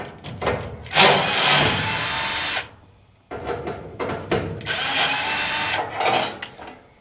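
Power drill whirring loud and close as it backs two bolts out of the shroud on a noisy Maytag dryer, in two sustained runs broken by a short pause, with clanks and handling sounds.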